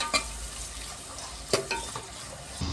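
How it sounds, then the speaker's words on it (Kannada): Onions frying in a pan for mandakki oggarane, a faint sizzle under clinks and scrapes of a spoon stirring against the pan. "ಎಲ್ಲಾನು ಫ್ರೈ ಮಾಡ್ಕೊಳ್ಳೋಣ ಕೆಂಪಗಾಗೋವರೆಗೂ"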